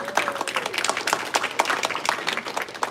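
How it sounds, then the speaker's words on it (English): Audience applause for a delegate at a political gathering, a steady crowd of hands clapping at full strength throughout, with a few voices and cheers woven in. "can we give her a round of applause for this?"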